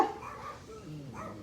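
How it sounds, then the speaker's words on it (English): Dogs barking and whimpering in a garden, the sound fairly faint and distant, with short yips and a whine trailing off. "Now they want to bark."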